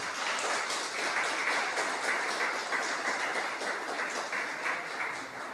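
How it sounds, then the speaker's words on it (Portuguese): A church congregation claps cheerfully for Jesus in a steady, fast, rhythmic applause that fills the room and stays loud and even throughout. "Palmas bem alegres para Jesus."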